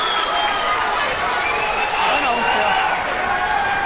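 Spectators at a Mosconi Cup pool match applaud and cheer, a steady dense wash of clapping and crowd noise holding loud throughout.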